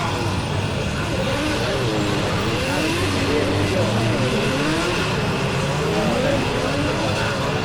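Drift cars roll out onto the track at a drift championship event, a dense, continuous wash of engine drone with shifting tones, while a commentator talks over it.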